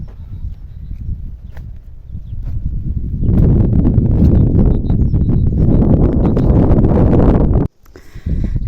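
Strong gusts of wind in an April orchard buffet the microphone in a loud, low rumble that swells halfway through and cuts out briefly near the end.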